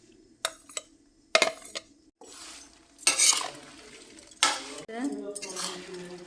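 A utensil stirring cumin and coriander spices into spicy jujube pickle in a pan off the heat, with several separate bursts of metallic scraping and clinking between quiet gaps.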